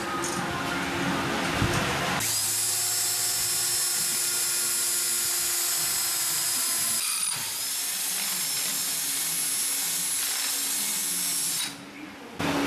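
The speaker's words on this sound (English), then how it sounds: "Just put a hole in a perfectly good housing." A power drill bores drainage cutouts into a rear axle housing during a differential rebuild, a loud, steady high-pitched whine running about ten seconds with a brief dip midway before stopping near the end.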